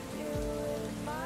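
Steady rain falls on a surface as a dense, continuous patter, with a low tonal hum running beneath it throughout.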